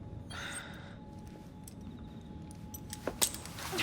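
A ring of keys jangles in the Assassin's Creed Syndicate video game, a faint metallic rattle and a couple of brief clinks near the end over a low ambient hum, with a soft breathy sound early on.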